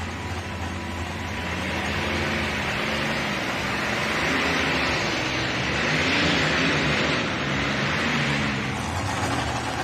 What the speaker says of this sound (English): final tractor, modified class light mods here tonight, the Mustang Legacy